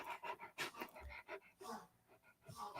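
A dog pants close by in quick, uneven breaths mixed with faint whimpering and rustling, while quiet speech is heard in the background.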